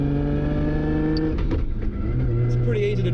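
Engine of a 1000+ horsepower Nissan R32 GT-R with a sequential transmission, a steady droning tone under driving with a slight shift in pitch partway, loud and close, with a person speaking over it.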